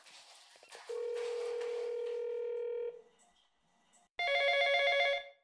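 A telephone rings indoors in a household setting, with a long steady electronic tone followed by a short burst of rapid trilling bell rings, with quiet background in between.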